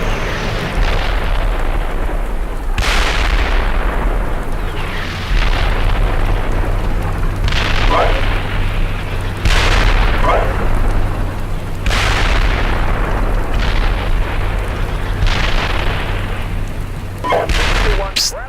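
Artillery fire in the Steel Beasts Pro tank simulator, heavy booming blasts landing every few seconds over a loud, constant rumbling engine drone, close and powerful throughout.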